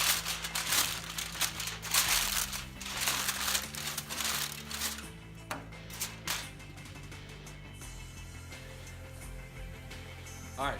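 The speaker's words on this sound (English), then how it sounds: "Throw a little bit of foil over the top of them while we're waiting on those last two." Aluminium foil crinkles and crumples close by as it is laid over resting chicken breasts, a quiet run of crackling bursts that thins out and settles toward the end.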